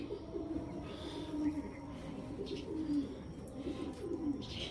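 A racer pigeon coos softly in repeated low throaty phrases, fairly faint against a quiet room background, with a few faint chirps in between.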